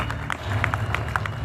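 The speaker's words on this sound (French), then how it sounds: "S'il vous plaît, applaudissez très fort Mariam." An audience applauds at a French-language stage show, scattered claps with crowd noise beneath, steady and fairly close for a brief moment.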